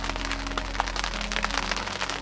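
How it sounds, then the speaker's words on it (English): Rain falls outdoors near a hunting blind, a dense patter of scattered drops and taps over a steady low hum. "it seems like it's raining more and more every few minutes"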